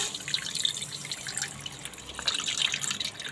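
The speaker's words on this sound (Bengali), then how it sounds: "আমি 1/2 কাপের মতন চিনি নিয়েছি আর 1 কাপের মতন আমি জল দিয়ে দিচ্ছি।" Water poured from a cup onto sugar in a pan to make syrup for mini gulab jamun, a steady close trickling and splashing with faint dripping, no talk.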